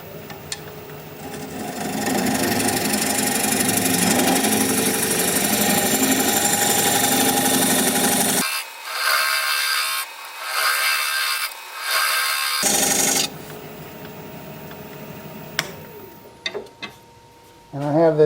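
A wood lathe turns a Russian olive live-edge bowl while a 3/8 inch bowl gouge cuts a recess, giving a steady close whirring hum broken by pauses and short bursts before winding down.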